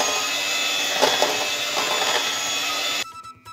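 An electric mixer whips cream for homemade ice cream, giving a steady, loud whirring drone that runs for about three seconds before cutting off abruptly.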